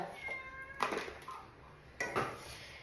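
A cat named Sony meows twice indoors, a longer plaintive cry then a second one after a pause, fairly faint and close, with light kitchen clatter behind and no talk.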